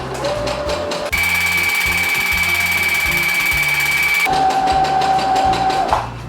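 Sewing machine stitching forward and then reversing, a loud close mechanical whir with steady rapid needle rhythm, shifting pitch as the stitching direction changes.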